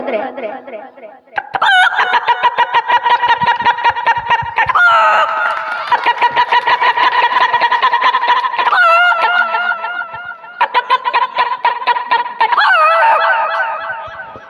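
A voice loudly imitates a chicken, a string of clucking, cackling calls and crowing bursts repeating almost nonstop.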